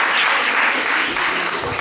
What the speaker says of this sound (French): On applaudit très fort Brahim pour sa participation